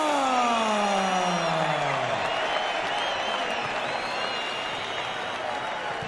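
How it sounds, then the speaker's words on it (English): A large arena crowd roars and applauds after a UFC fighter's first-round TKO win, a loud, sustained wash of cheering with a descending siren-like tone at the start. "this adoring crowd responding to your performance tonight"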